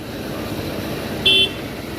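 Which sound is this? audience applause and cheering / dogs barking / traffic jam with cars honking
traffic jam with cars honking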